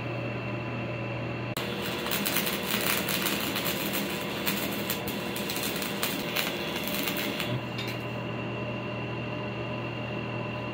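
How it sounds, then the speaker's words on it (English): Stick welding with a Lincoln welder set to 65 amps on DC positive, burning 6011 rods while building hoop net anchors: a dense, steady crackling sputter lasting about six seconds that starts and stops abruptly over a constant background hum. "Got our Lincoln welder set up on 65 on our heat, DC plus."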